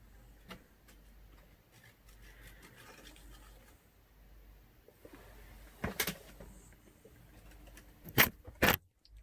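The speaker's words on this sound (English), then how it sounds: "There is a daddy long legs in my paper lampshade, and it is being a total knobhead." Soft, irregular tapping and fluttering of a crane fly against a paper lampshade, building to a few sharp, close knocks near the end, with quiet pauses between.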